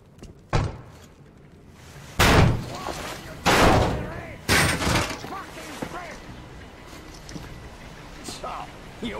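Heavy door being shoved open in the Metro Exodus game: a series of loud booming slams and scraping metal impacts spaced a second or so apart, mixed with voices talking.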